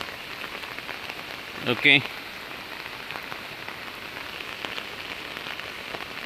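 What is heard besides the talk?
heavy rain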